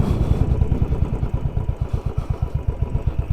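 A Royal Enfield Classic 500 motorcycle idles close by as it is parked, its single-cylinder engine thumping in a steady, even rhythm.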